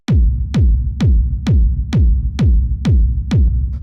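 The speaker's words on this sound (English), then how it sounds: "So this is just your standard rumble kick." A fat 909-style rumble kick drum sample for rave techno hits eight times at an even, steady tempo. Each punchy attack is followed by a deep, booming tail, with no other sounds.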